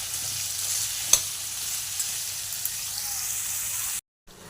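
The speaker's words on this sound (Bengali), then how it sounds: "আলু আর ওল একটু আমি লালচে করে ভেজে নেব।" Potato and elephant foot yam pieces frying in oil, giving a steady, even sizzle with a couple of small clicks, close and moderately loud, and the sound briefly cutting out near the end.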